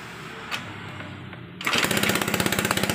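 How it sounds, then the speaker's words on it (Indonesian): A Honda Beat FI motorcycle engine with a leaking exhaust catches after a quiet stretch and settles into a loud, rapid, chugging idle with a rough, pulsing rhythm. "Nah, ternyata motornya langsung nyala ya guys ya. Nah, ini knalpotnya masih bocor"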